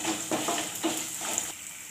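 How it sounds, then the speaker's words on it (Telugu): Dried red chilies and curry leaves fry in hot oil, a close, steady sizzle broken by a few soft stirring scrapes. "ఇప్పుడు కొద్దిగా కరివేపాకు రెబ్బలు వేసి ఒకసారి మళ్ళీ వేయించుకోవాలి"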